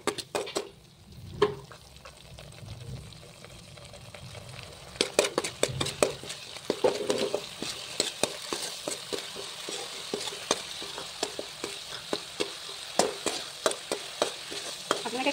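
Spices being stirred in a kadai while cooking an amita (papaya) fish curry: soft scraping and sizzling with repeated clinks of a spoon against the pan, close and moderately quiet, growing busier after the first few seconds.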